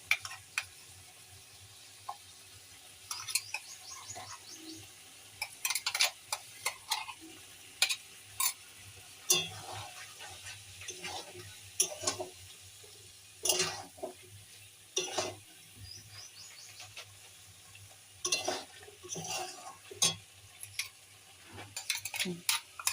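A spoon scrapes and clatters in a pan of simmering curry while a ground mustard-cumin paste is stirred in. The knocks come in irregular bursts over a faint, steady sizzle.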